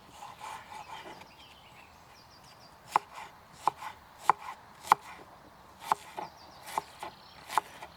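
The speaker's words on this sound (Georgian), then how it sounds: "ხახვს დავჭრი უხეშად, ვიკინგურად" A knife coarsely chops an onion on a board for a Viking-style meal cooked over an open fire, about eight sharp, irregularly spaced chops, close up, with a faint outdoor background.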